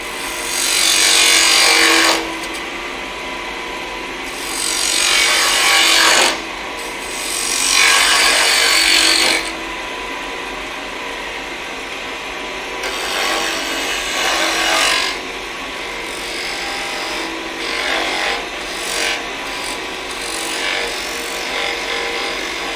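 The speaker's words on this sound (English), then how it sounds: "I can keep the lathe moving, but take it off and I'll sand that" A wood lathe turns a wooden snowman while a tool cuts and rubs against the spinning wood, rising in loud rasping bursts over a constant motor hum, with no voices.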